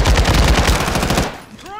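Rapid automatic gunfire in a video game shooter hammers out loud and close in a steady rhythmic burst, then cuts off, leaving a faint tail with a short electronic chirp.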